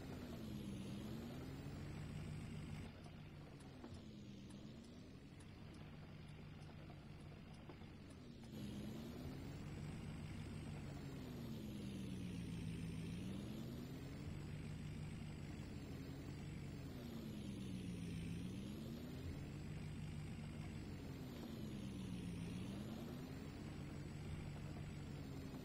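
Ford F350 plow truck with a Boss V plow driving through snow piles on a driveway in Farming Simulator, a continuous engine drone with slow rising and falling pitch sweeps, steady and moderately loud throughout.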